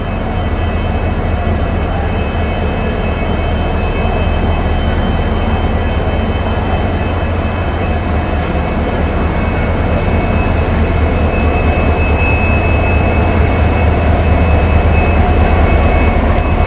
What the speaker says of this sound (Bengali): 8005 হাওড়া জগদলপুর এক্সপ্রেস 19 নম্বর প্ল্যাটফর্ম থেকে ছাড়বে